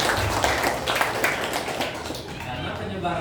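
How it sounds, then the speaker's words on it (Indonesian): Classroom students clapping together for a classmate, a dense burst of applause that fades toward the end, with brief chatter underneath. "Pinter, kasih tepuk tangan dulu teman-teman."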